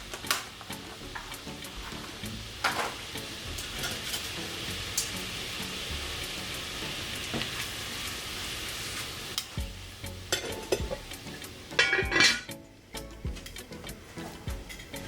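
Pork chops cooking in a pot with bay leaves, giving a low steady sizzle through most of the stretch and scraping stirs near the end, fairly quiet and without talking.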